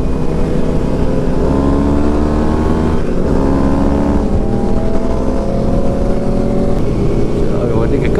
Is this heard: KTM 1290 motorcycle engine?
yes